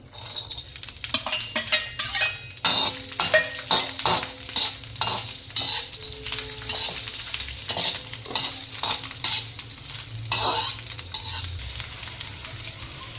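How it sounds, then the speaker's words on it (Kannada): Onions frying with ginger and garlic in a pan for Punjabi chicken masala, a continuous close sizzle broken by repeated scraping stirs of a spatula against the pan. "ಈಗ ಆನಿಯನ್ನು ಒಂಚೂರು ಫ್ರೈ ಆಗಲಿ ಅಷ್ಟೇ ಫ್ರೆಂಡ್ಸ್."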